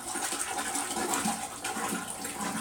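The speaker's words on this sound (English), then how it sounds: "we're going to neutralize this by rinsing it in water" Running water splashes steadily over a metal part being rinsed above a slop tub after pickling in a metalworking shop, a continuous close gushing wash with no voices.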